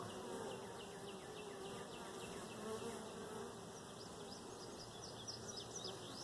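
Dense, continuous buzzing of many honey bees, a low steady hum with occasional sharper passes of individual insects nearby.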